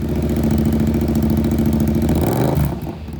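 A Yamaha 689 cc parallel-twin motorcycle engine runs at a steady, throbbing idle close by, then drops away near the end.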